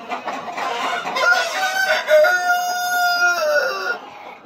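Hefty, large-bodied roosters at a hybrid poultry farm crow in long drawn-out calls over a dense, noisy chorus of clucking from many birds nearby.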